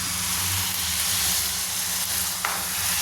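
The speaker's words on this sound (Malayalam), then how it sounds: "ഇതും കൂടെ ഒന്ന് ഇളക്കി കൊടുക്കും" Jaggery syrup being stirred into a ragi and coconut mixture in a pan, giving a steady close sizzling, hissing bubble with faint stirring scrapes throughout.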